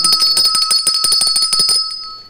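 A bell rings on a live stream in a rapid, continuous run of bright metallic strikes with sustained ringing tones, loud and close, fading out at the end.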